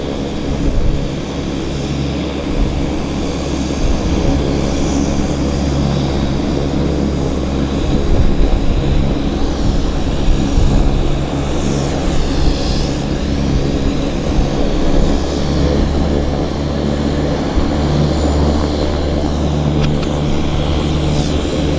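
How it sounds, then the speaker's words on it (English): A Boeing airliner on approach to Vancouver Airport gives a broad, steady roar with a swelling whine in the middle, loud and continuous, with no voices. "Boeing coming in on this side too, so unusual."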